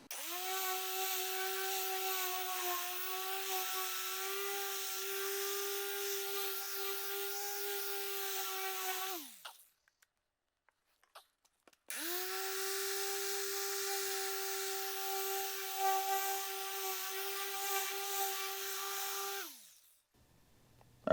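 A dual action polisher buffs the paint on a BMW X5 rebuild, a steady whirring drone running alone for several seconds, cutting out briefly, then spinning up again for another long stretch before stopping.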